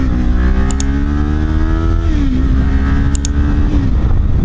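Kawasaki Ninja 400 with an aftermarket exhaust pipe pulling away, its engine note rising steadily through one gear, shifting, then climbing again, loud and close under wind noise.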